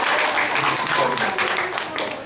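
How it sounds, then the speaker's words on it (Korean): Church congregation clapping together during a Sunday worship service, a steady loud wash of applause filling the hall alongside voices. "유돈이 한번 박수 한번 쳐주세요."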